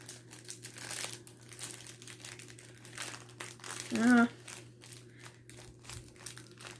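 Plastic packaging around a skein of hand-dyed embroidery floss crinkles in short bursts across the clip, with one louder crunch near the middle; background noise sits underneath.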